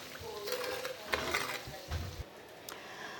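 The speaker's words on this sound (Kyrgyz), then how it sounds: "Ушул убакта 2 чоң кашык кумшекер салып коебуз. Чөгөсү ширин болот. Дагы аралаштырабыз." Ghee with two large spoons of sugar being stirred in a pan, a soft scraping and gentle sizzle with a few light clinks, quiet and close.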